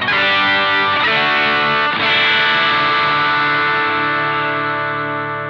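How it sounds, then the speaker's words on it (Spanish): Electric guitar run through a Valeton Dapper Mini overdrive with cab and preamp emulation, three loud sustained distorted chords struck about a second apart, the last left ringing and slowly fading. "Con overdrive."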